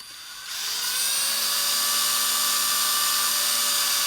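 Small high-speed drill with a 2.5mm bit spinning up and boring into a plastic model telehandler boom part, a whining tone that rises within half a second and then holds steady and loud, with no talk.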